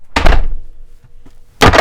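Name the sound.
heavy old 1912 Jameson swing locker door closing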